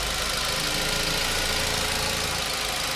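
A 2008 Ford Focus SE with a 2-liter engine idles steadily and close by, giving a smooth, even mechanical hum with a slight ticking rhythm and no voices over it.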